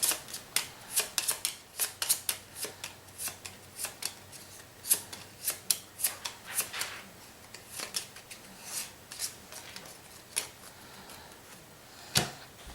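A deck of cards is shuffled during a tabletop board game, heard as a long run of sharp, close card snaps and clicks in an irregular rhythm, steady and fairly loud, with no talking.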